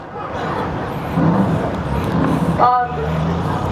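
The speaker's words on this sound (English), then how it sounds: "Here comes the car." A race car at Waterford Speedbowl, a brand-new build on a red frame, roars past on the oval track, engine swelling and fading while a commentator talks over it.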